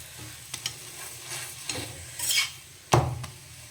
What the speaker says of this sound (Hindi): तो इसमें हम तेल कम ही डालेंगे, क्योंकि तेल पहले से ही तवा पे था हमारा।